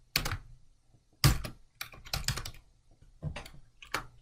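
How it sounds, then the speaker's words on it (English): Bursts of typing on a computer keyboard, quick clusters of clicky keystrokes with short pauses between, close and fairly quiet. "you need to be able to read what I'm typing"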